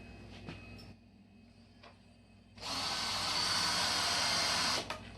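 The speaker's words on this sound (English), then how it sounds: "Going to take and countersink the holes where we want to put our screws for the crossboards." A power drill countersinks screw holes in wooden crossboards for a kids' bed, whirring loudly for about two seconds after a few faint handling taps.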